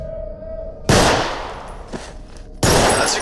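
Two loud, sharp Glock 17 pistol shots ring out at a practice range with bottles set on concrete in a video game, spaced well apart, with a faint click and low hum between them.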